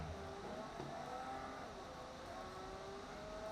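A car engine revs steadily in a racing video game, a constant droning roar with slowly shifting pitch and no pauses.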